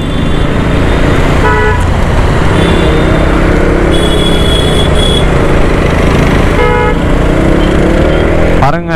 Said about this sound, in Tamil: நம்ம போகிற சைடு ஃபுல்லாக டிராஃபிக்ங்க. சரியான டிராஃபிக்.